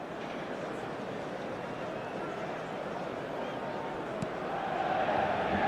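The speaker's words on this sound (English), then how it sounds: "Certainly gave this crowd something to really cheer about." A football stadium crowd roars and cheers in a broad, steady wash of distant noise that swells slightly toward the end.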